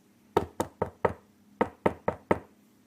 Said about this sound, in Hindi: अरे, ये दरवाजा कौन बजा रहा है?